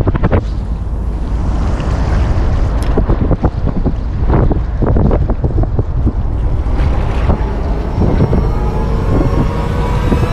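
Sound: wind

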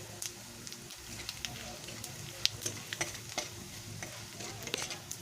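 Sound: whole cumin seeds and spices frying in oil

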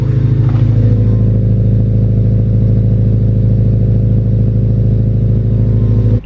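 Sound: Honda Civic EP3 cold start with new exhaust

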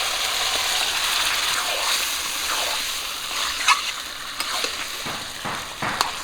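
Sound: marinated chicken sizzling and stirred in pan with onion paste

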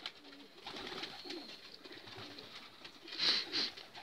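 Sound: homing pigeons cooing

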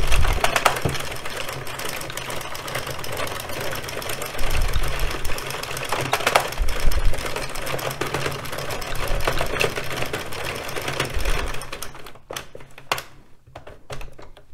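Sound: addi express kingsize knitting machine knitting rows

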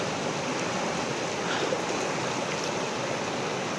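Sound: flowing stream water

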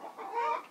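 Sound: chickens clucking after laying an egg

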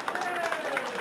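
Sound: audience applause

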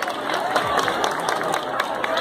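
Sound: crowd applause

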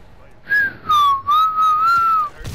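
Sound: person whistling

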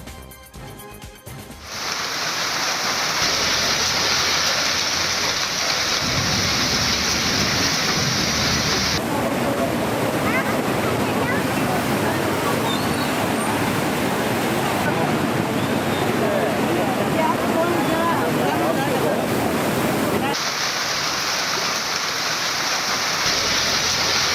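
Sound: heavy rain and flooding stream water

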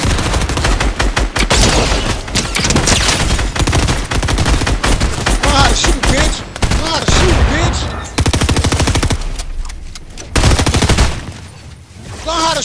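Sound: gunshots

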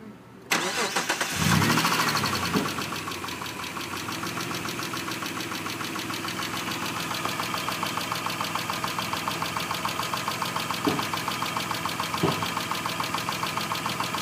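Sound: 2000 Mitsubishi Eclipse 3.0 liter engine starting and idling

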